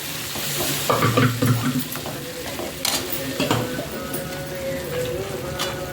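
Besan mixture for ambat chuka bhaji being stirred and fried in a pan, with sizzling and scraping stir sounds, louder knocks early on and a steady frying hiss throughout.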